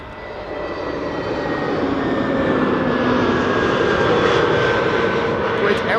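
A Kuwait Airways Airbus A320neo arriving at Amsterdam Schiphol from Kuwait City roars in close, engine noise building over the first seconds into a loud, sustained roar with faint gliding whine tones.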